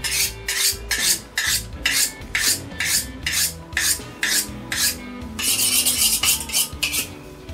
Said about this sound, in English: I will sharpen my knife ahead of time.